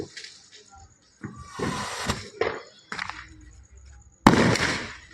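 Firecrackers bursting during Diwali celebrations in a busy market, with several sharp pops and crackling bursts, the loudest one near the end, amid background crowd noise.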